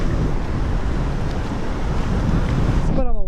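Ocean surf and wind at a beach on a summer day, a steady broadband wash of breaking waves with wind rumble pressing on the microphone throughout, fairly loud and close, with a brief tonal chirp near the end.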